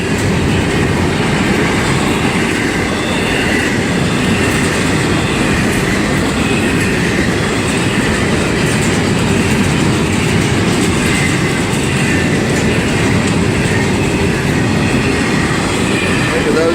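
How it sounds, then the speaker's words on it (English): A long freight train rolls past close by, its steady heavy rumble and rhythmic clatter of wheels on rails continuing loudly and unbroken for the whole stretch. "this is really a pretty long train right here"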